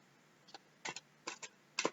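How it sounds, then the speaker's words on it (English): A deck of oracle cards being shuffled by hand: a few quiet, crisp riffling bursts in irregular quick succession, close and isolated. "Give it a really good shuffle."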